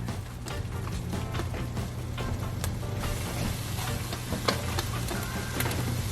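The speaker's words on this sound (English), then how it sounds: "we're gonna throw our onions and peppers in." Onions and peppers sizzle in a Dutch oven with a little meat, a dense continuous crackle with scattered sharp pops and stirring scrapes, close and steady throughout.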